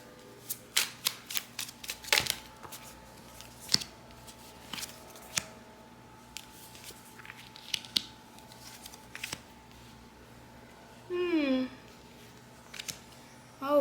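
Tarot cards being shuffled by hand, a series of crisp, irregular riffling and slapping bursts spread throughout, with a brief voice near the end.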